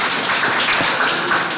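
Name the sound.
audience applause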